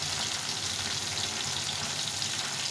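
Small fish fry in hot oil, seasoned with salt and turmeric, giving a loud, steady, close-up sizzle and crackle with no pauses and no voices.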